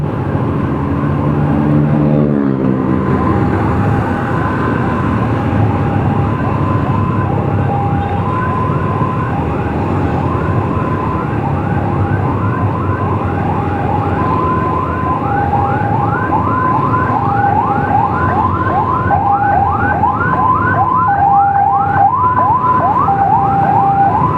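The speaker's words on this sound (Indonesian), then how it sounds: "di kanan belakangku ada mobil ambulan" An ambulance siren wails, rising and falling in a steady rhythm over loud, constant traffic and engine noise on a city street at dusk, growing more insistent as it comes close behind.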